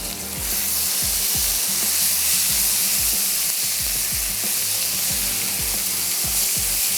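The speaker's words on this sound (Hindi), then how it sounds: "हमने इसको अलग से फ्राई नहीं किया है, मसाले के साथ ही फ्राई कर रहे हैं।" Fish fries in masala for a fish gravy, giving a loud, steady sizzle throughout, with repeated scraping and stirring knocks from a utensil in the pan.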